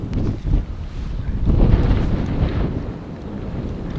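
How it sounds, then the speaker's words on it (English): Strong gusty wind buffets the microphone with a loud low rumble, rising and easing over several seconds, with faint water in the background. "A little windy out here."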